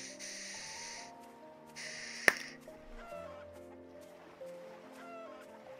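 A chicken clucks in the video game Tree of Life, short bird calls over a soft, sustained game music backdrop, with a sharp click partway through.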